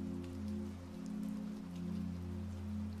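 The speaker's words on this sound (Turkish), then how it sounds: "hafif yağmur çiseliyor" Light rain drizzles in a steady, soft patter of drops over a constant low hum, calm and unbroken with no voices.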